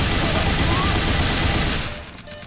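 Loud, dense automatic gunfire rattles without a break from a video game, a continuous volley that drops away sharply just before the end.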